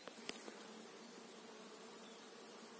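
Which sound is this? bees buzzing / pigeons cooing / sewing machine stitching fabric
bees buzzing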